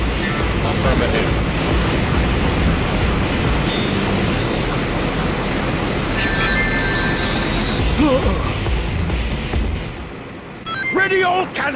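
Dense, continuous booming blasts of cannon fire in the video game Sonic Heroes pile up in a loud, sustained barrage, with brief voices near the end.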